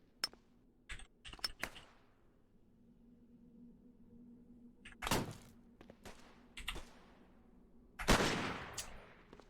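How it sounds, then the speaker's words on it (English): Sharp, sparse bursts of turret fire in Cataclysm DDA, a few isolated cracks early and then louder clustered volleys near the end, with quiet gaps and a faint steady hum underneath. "A lot of turret fire"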